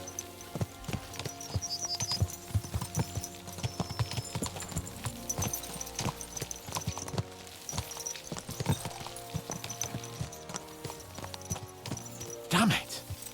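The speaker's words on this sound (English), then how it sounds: "Let's really spur these horses on, eh?" Horses gallop in Kingdom Come: Deliverance 2, a busy run of clip-clop hoofbeats mixed with game music and ambience, with a brief whinny-like burst near the end.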